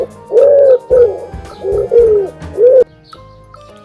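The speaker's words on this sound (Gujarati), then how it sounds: "કબૂતર," A pigeon coos in four soft, rounded, throaty phrases with brief pauses between them, close and clear over a faint musical background.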